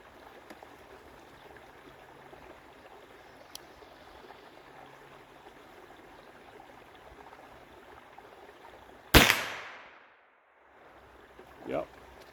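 A single sharp blast from a .32 Thompson Center Seneca black powder rifle loaded with 20 grains of 3F powder cracks loudly outdoors after quiet ambient noise, followed by a fading echo and a fainter later knock.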